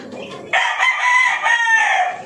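Chickens and young chicks settling to rest after deworming, with a rooster-like crowing call ringing out loud and close for about two seconds, no talk.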